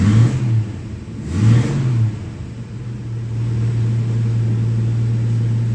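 A 1976 Dodge D100 engine with a large-bowl carburetor warms up, close by and loud, cranking and catching in two revving surges before settling into a steady, even idle, with no voices.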